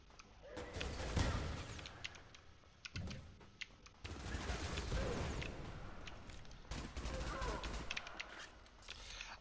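Gunfire rings out in the first-person shooter ADACA, bursts of rapid automatic shots in three main volleys separated by brief gaps, sharp and fairly close under faint background sound.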